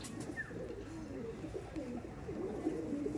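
A Kolkata-bred Andhra Madras pigeon hen coos softly in repeated low rolling phrases, steady and fairly faint, against a quiet background.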